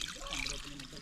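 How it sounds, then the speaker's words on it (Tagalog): Water is poured in a short trickling stream while a dish is being cooked, a close, splashy burst lasting about a second. "Nilagyan ko ng tubig mga idol."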